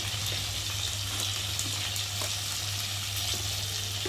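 Potatoes frying in a pan with tomato, turmeric, chilli and cumin powder, ginger, garlic and onion paste for a Bengali tengra fish dish: a steady, close sizzle with faint stirring scrapes and a low continuous hum underneath.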